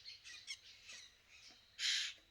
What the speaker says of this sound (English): But I think it might actually be a quail.